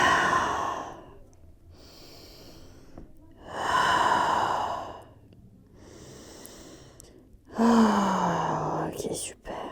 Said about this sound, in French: On va prendre 3 profondes respirations pour vraiment se déposer ici.